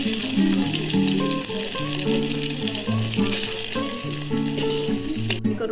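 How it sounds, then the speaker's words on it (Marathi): Mackerel fries in a pan in a Konkan home kitchen, a steady dense sizzle running throughout, close and fairly loud, with background music playing underneath. "एका बाजूने तळलेल्या मच्छीला अलगद पलटी करा."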